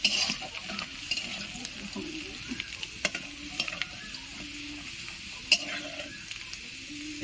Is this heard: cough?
no